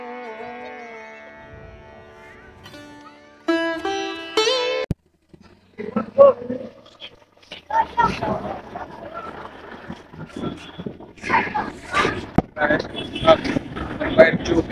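Wind rushes and sea waves roll in at Juhu beach in Mumbai, with gusty buffeting on the microphone and a crowd murmuring in the background, after a stretch of music at the start.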